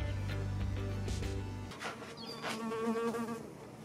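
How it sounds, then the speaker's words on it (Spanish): Insects buzz close by, a beetle, a bee and a fly, giving a steady droning whine with wavering pitch over faint background hum, with no talking. "Un mayate, una abeja, una mosca."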